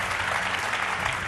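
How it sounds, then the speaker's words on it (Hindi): A studio audience at a televised Hindi political debate gives a short, dense burst of steady applause to welcome a panel guest. "तालियों के साथ उनका स्वागत कीजिए"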